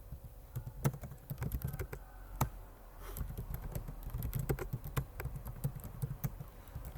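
Commands typed on a computer keyboard during a Cisco OSPF configuration exercise, with quiet, irregular close-up key taps, some short bursts and some sharper single clicks.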